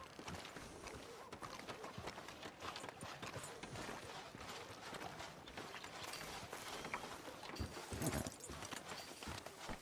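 Horse hooves clip-clop along a street in the Red Dead Redemption 2 video game. The steady hoofbeats sit inside a dense, busy mix of other game sounds.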